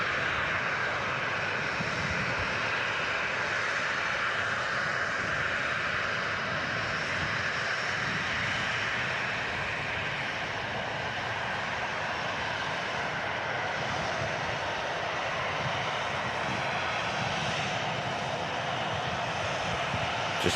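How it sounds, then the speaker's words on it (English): KLM airliner departing Manchester Airport for Amsterdam, engines producing a long, even, moderately distant roar that persists throughout with no talk. "Looks like they're going to get the KLM out in between these two Ryanairs"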